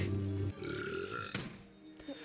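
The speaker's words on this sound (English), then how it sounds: "the burp is fine" A loud, drawn-out burp from the animated plastic wheelie bin in the Doctor Who episode Rose, a single rumbling belch with a wet, gurgling texture lasting about a second and a half.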